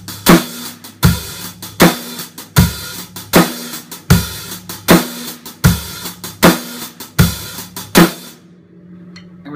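Fatback drum groove on a kit: hi-hat with bass drum and snares on beats 2 and 4, played alone as ten evenly spaced hits, loud and close, ending in a fading decay.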